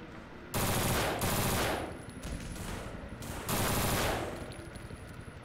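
Automatic gunfire in the zombie shooter game No More Room in Hell comes in two loud, dense bursts of rapid shots, separated by a quieter stretch of echoing noise.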